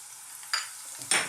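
Chunky-cut garlic drops into hot oil for a vegan stuffed bell pepper filling, giving two brief bursts of sizzle, one after the other, over a faint steady hiss.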